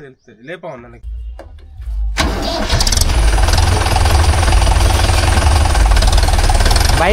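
A tractor engine cranks and catches about two seconds in, then runs loud and steady with a rough, knocking rumble. Voices talk before it starts.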